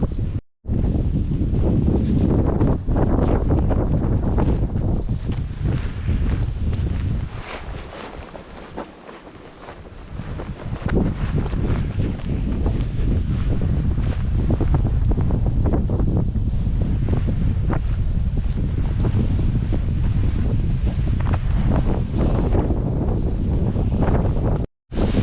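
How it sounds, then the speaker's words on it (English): Strong, cold north wind on a frozen hike in the Wichita Mountains of Oklahoma, roaring hard and continuously against the microphone, easing briefly midway before surging back, with no talk. "North wind just cutting right through me."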